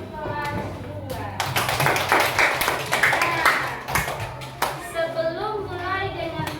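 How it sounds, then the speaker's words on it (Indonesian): Children in a classroom clap rhythmically together for class 2, quick sharp taps in bursts close by, with children's voices and talking running through and after the claps. "tepuk tangan untuk kelas 2"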